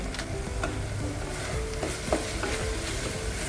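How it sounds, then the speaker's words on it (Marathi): Turmeric, chilli powder, coriander-cumin powder and garam masala sauté in a pan for dal khichadi, a dense close sizzle with repeated scraping stirs of a spoon and no talk. "आता हे सगळे मसाले चांगले परतून घ्यायचे।"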